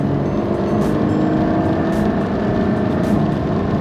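A car engine pulls steadily in a continuous broadband roar as the driver releases the clutch and accelerates during a driving challenge, loud and sustained throughout with no talk.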